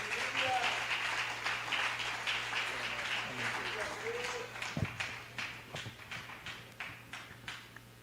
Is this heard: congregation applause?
yes